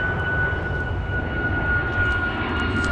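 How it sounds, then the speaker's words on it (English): An airplane climbs overhead after departing Edinburgh, heard outdoors along a cycle route in Scotland: a steady, rumbling engine drone with a thin high whine held throughout, moderately loud and constant, no one speaking. "Oh, plane"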